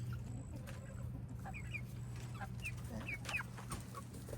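Chickens cluck and murmur in short, scattered calls over a steady low hum, a flock of hens and a rooster nearby at a backyard coop, soft and close with no talking.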